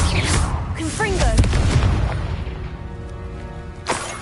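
Confringo blasting spell explosions in the Hogwarts Legacy video game, several loud booming bursts over busy game sound, with a voice casting spells.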